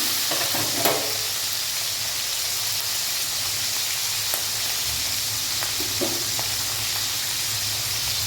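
Fish fries in hot oil in a pan, a dense, even sizzle close up throughout, broken by a few faint utensil taps and stirring sounds.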